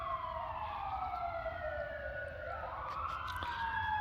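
A fire truck siren wails in long rising and falling sweeps on Santa Monica Boulevard in Beverly Hills, fairly distant over low traffic rumble, with no voices.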